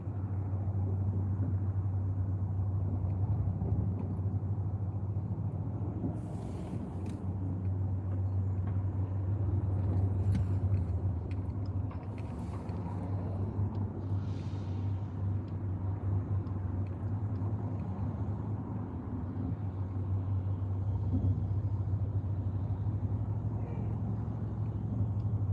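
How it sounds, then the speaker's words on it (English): Steady low rumble of road traffic in South Florida, a continuous engine drone with a hum and occasional louder passing vehicles, heard from inside or beside a car with no talk. "welcome to South Florida, where there's nothing but back-to-back, bumper-to-bumper traffic no matter what time you get on the road"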